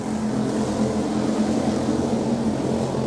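A hobby stock race car on an off-road speedway gasses up at the start, a loud steady engine drone with a rough low rumble holding for a few seconds, no voices.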